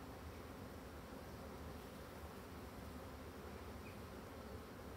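An agitated colony of black honeybees drones in a continuous, dense buzz throughout the open hive inspection, with a steady hum and a faint hiss and no talking.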